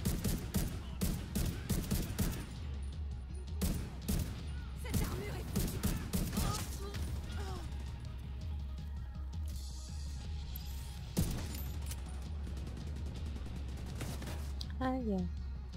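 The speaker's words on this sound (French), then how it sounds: "Pourquoi il me tire dessus?" Bursts of gunfire in The Division 2, sharp repeated cracks and volleys scattered through the clip over a steady low game-soundtrack rumble, with a voice talking at moments.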